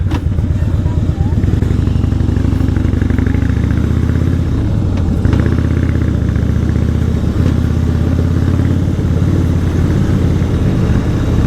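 A Harley-Davidson Fatboy with baffled exhaust rumbles steadily and loud, a deep throaty V-twin idle and revs sustained throughout with no pauses.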